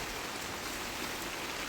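Steady rain falls over a vegetable garden during a harvest of squash and eggplant, an even, continuous hiss of drops on surfaces with no voices.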